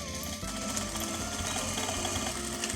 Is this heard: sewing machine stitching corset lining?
yes